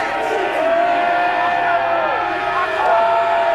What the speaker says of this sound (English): Crowd finding their voices.